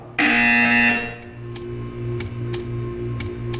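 A loud, harsh buzzer in the Portal 2 video game sounds for about a second, followed by a steady hum and a row of evenly spaced ticks.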